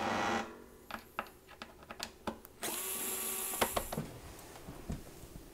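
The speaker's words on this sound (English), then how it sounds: "I'm gonna go ahead and unscrew all these screws" A power driver removes the screws from the control panel of a KitchenAid dishwasher. Short bursts of whirring alternate with clicks and taps, then one longer whine sounds close by with no talk.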